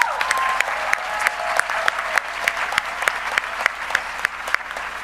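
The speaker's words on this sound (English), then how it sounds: "give a round of applause to Juanita Benavides Alcala" Sustained applause from a graduation ceremony crowd at The Universities at Shady Grove honoring a graduate, with dense clapping and a few sharper, closer claps standing out.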